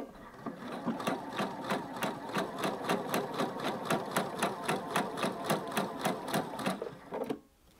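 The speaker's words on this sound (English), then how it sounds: "if I wanted to sew another line of stitches, I could place those stitches, line those up with the markings on the foot" A sewing machine runs steadily while top stitching a parallel line along fabric, its needle thumping out an even, rapid rhythm, close and alone, before stopping abruptly at the end.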